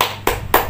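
Children's chef clapping chant at a preschool: two or three sharp hand claps, close and distinct, spaced evenly a quarter second apart in a steady rhythm, with no voice in between.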